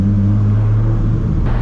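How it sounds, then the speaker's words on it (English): A Toyota Supra MK4 with a 1000 horsepower setup pulls under power, its engine a steady, deep, loud droning rumble heard from inside the car and holding for a couple of seconds with no talk. "God, I can't get over how good this car sounds."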